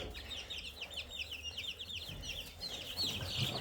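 Chickens cluck and chirp on a farm with call ducks and black copper marans nearby, the bird calls moderately near and repeating steadily over a low rumble, with no talking.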